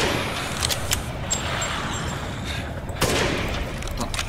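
Gunfire in the video game Resident Evil Village, a dense, noisy wash of rapid shots with a few sharper bursts, loud and continuous for several seconds with no clear pauses.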